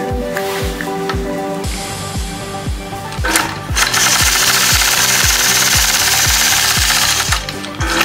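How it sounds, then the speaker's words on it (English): A domestic sewing machine quilting a curved line along a mini 4-in-1 machine quilting ruler, its needle thumping in a fast steady rhythm, close and loud, with a brighter whirring motor layer joining partway through. "So hold it there, engage the machine, use gentle pressure, and glide along that curve."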